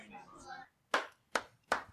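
Three sharp, close hand claps in even rhythm, following a brief burst of speech.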